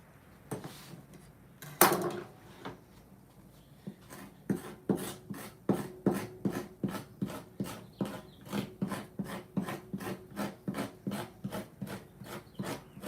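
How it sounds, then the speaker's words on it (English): Blade scraping meat off a halibut carcass, a steady run of quick rhythmic rasping strokes, close and fairly loud, growing more regular as it goes with no talking. "now we're going to do the scraping part to get all this meat off"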